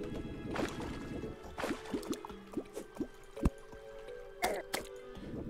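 Water drips and plops in the Terraria video game, a scatter of short watery drops at an uneven pace under a soft, steady game ambience, with no talking.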